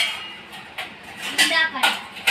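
Dishes and pots clattering in a home kitchen, several sharp metallic clinks and knocks at close range, bunched toward the end, with a person speaking over them.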